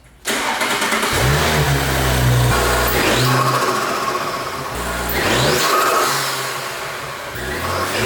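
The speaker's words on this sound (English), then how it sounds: "We whip it around the neighborhood and we hear the sweet noises that this car gets to make now." An Audi S5 B9 fitted with a CTS cold air intake starts and revs hard several times, loud and close, its engine note rising and falling between sustained throttle blips.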